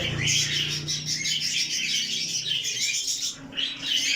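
Cockatiels and budgerigars at a bird farm, a dense, continuous chorus of close, loud chirps and squawks from many birds at once.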